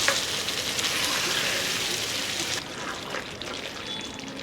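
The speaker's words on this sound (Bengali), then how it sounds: "এবার আমি দিয়ে দেব। আবারও আমি খুব ভালো করে নেড়ে দেব।" Mutton with Kashmiri chili paste sizzling steadily in a hot pan while being stirred, a loud dense frying hiss that drops in intensity partway through as the liquid paste settles in.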